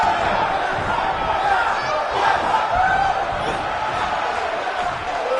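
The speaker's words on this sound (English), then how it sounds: "the crowd is loving Sasha's act" Wrestling arena crowd cheering for Sasha Banks: a dense, sustained roar of many voices with shouts and whoops, holding loud and steady while a commentator talks over it.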